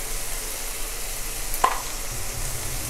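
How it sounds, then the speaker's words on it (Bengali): Vegetables with a spoonful of yogurt sautéed and stirred in a pan give a steady, even sizzle with a brief clink of a utensil partway through. "দিয়ে আর একটু কষিয়ে নেব"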